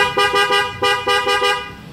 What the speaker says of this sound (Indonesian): klakson Denso waterproof, suaranya dijamin kenceng.